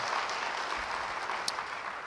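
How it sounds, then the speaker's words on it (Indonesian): Church congregation claps during a sermon, a brief steady wash of applause lasting about two seconds. "Yang percaya beri tepuk tangan bagi dia"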